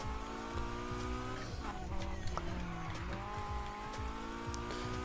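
A Honda Civic in Need for Speed Heat, its engine note rising and falling through gear changes as it races, with repeated tire squeal through corners, steady and up close.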